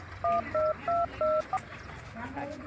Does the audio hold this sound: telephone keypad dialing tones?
yes